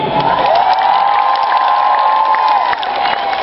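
A large crowd at a live show cheers and applauds loudly and continuously, with a sustained roar of voices and whoops carrying throughout.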